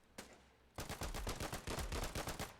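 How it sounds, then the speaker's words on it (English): A machine gun in the video game Foxhole fires a single shot, then a rapid, loud burst of roughly a dozen close shots in quick succession. "he's got a machine gun over there."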